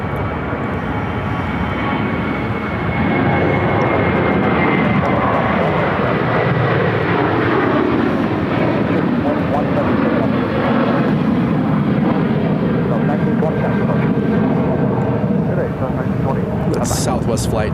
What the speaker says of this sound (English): That's Southwest Flight 1920 headed to San Jose del Cabo on a 737-700